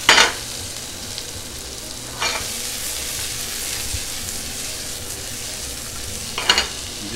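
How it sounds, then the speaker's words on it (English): Mushrooms, onions and potatoes sautéing in hot oil give a steady close sizzle, with a few brighter bursts of crackle as the pan is stirred. "And just let that sizzle and cook away."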